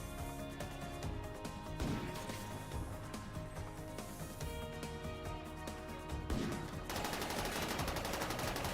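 Automated turret in a video game firing continuously, a dense rattling burst of gunfire that runs unbroken through the whole stretch with sharper impacts mixed in, loud and busy with no talking over it.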